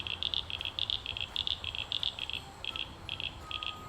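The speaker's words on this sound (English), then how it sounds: "that is the sound of frogs" Rapid, pulsing high-pitched calls repeat in quick bursts against a low background hum, a steady night chorus of several frog species heard at moderate distance during Australian floods.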